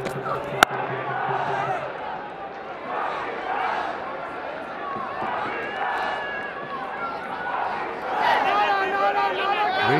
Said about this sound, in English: It's not exactly full, but they're making a lot of noise.